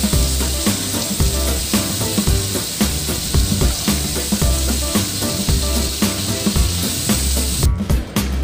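Fried fish is lifted out of hot oil in a kadhai, the oil hissing and sizzling steadily and loudly, with faint scraping and clinks near the end.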